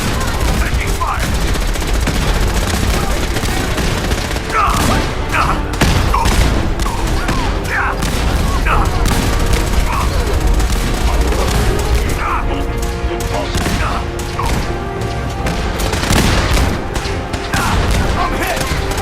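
Sustained gunfire fills a Fallout 4 video game battle at Bunker Hill, with dense bursts of fusillade and machine-gun fire, crashes and impacts, loud and continuous throughout, with shouted combat voices mixed in.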